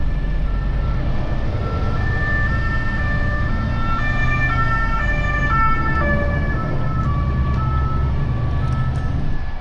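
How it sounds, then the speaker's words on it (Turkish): An ambulance siren wails continuously and loudly over the low rumble of road traffic. "Ambulans geliyor. Ona yer vermemiz lazım."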